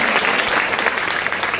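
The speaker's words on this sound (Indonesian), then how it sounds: "Berikan tepuk tangan Bapak." A church congregation applauds during a sermon, a dense, steady burst of clapping that fills the whole moment without any voices over it.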